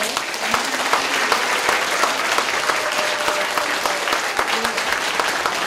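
A lecture audience at a citizens' school breaks into loud, dense applause after a talk by Governor Ahn Hee-jung, many hands clapping in a continuous, sustained roar with faint voices mixed in.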